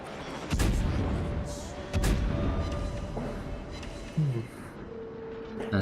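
Warship guns fire in a naval battle game, with three heavy booms spaced about two seconds apart over a rumbling background, plus brief lighter effects near the end.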